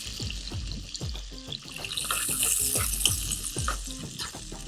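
Onions dropped into hot oil tempered with curry leaves for a tamarind fish curry, giving a steady broad sizzle with repeated low thuds and scrapes of stirring throughout, close and moderately loud.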